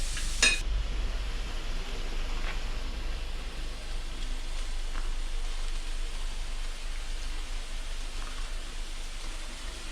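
Mixed vegetables cooking in a pan give a steady, soft sizzling hiss that runs unbroken and fairly close throughout, with one brief louder burst right at the start.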